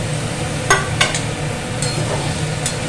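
Spices are sautéed with unripe jackfruit curry in a pan, a low sizzle under steady stirring with a few brisk scraping clinks of a spatula against the metal.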